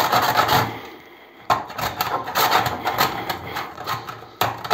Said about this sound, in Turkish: Bakın buz bu şekilde rendeleniyor.